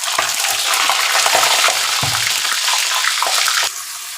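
Marinated country chicken hits hot oil seasoned with cumin, setting off a loud, dense, continuous sizzle with scraping stirs, fading slightly near the end.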